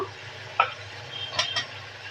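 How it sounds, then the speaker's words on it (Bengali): Cauliflower florets stirred into fried spice paste in a pan for a Bengali turmeric cauliflower and hilsa dish, with a few close scraping and clinking strokes over a low sizzle. "এখন আমি ফুলকপিগুলো দিয়ে দিয়ে দেবো"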